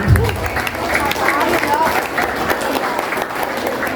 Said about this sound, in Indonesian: Boleh berikan sekali lagi tepuk tangan.